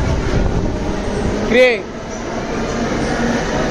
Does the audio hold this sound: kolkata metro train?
yes